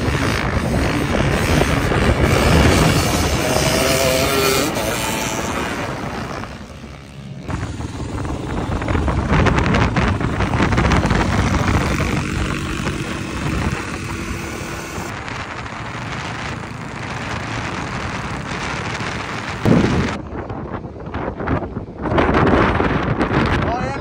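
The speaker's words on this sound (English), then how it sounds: "It's a very windy day." Strong wind gusts across the Silver Lake Sand Dunes, buffeting the microphone in a loud, continuous roar that rises and falls, with voices talking faintly underneath.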